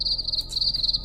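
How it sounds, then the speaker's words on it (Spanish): Crickets chirp in a dense, steady high-pitched trill, close and continuous throughout with no other sounds. "Fue el sonido de grillos."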